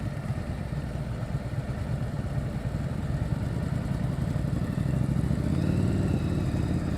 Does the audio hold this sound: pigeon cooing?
no